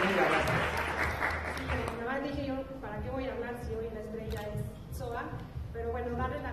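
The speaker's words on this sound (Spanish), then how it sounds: "un aplauso más" Audience applause at a hotel's exclusive mezcal presentation, a broad clatter of clapping that is strongest at first and then thins as a voice begins speaking over it.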